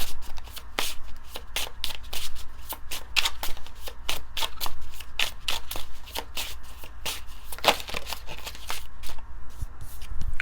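Tarot cards riffled and shuffled by hand in a steady run of crisp, close slaps and flutters, continuous throughout with no voices.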